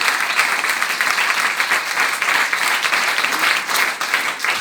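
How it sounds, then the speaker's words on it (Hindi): A church congregation bursts into loud, sustained applause, a dense steady wash of many hands clapping close and continuous throughout. "जोरदार तालियां अपने खुदा के जलाल के लिए"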